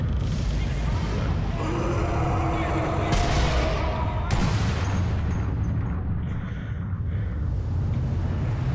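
Sniper rifle fire in the Sniper Elite Nazi Zombie Army 2 game, a few booming shots with rumbling tails over a dense game soundtrack.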